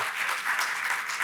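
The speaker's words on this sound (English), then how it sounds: "Let's give them another round of applause" Audience applause at a college kickoff event fills the room as a dense, steady wash of clapping, loud and continuous for a brief stretch.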